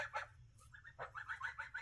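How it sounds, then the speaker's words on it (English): Farm geese approach with a string of short honks and clucking calls, fairly close and moderate in volume, coming in irregular bursts over a low background rumble. "my geese are coming, so they're getting so big"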